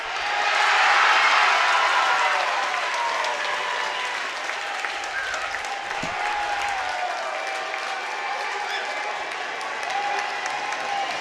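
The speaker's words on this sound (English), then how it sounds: "Crowd is loud, though." A loud crowd roars and claps in a college basketball gym during free throws in a close late-game moment, a sustained wash of cheering that swells early, then holds steady.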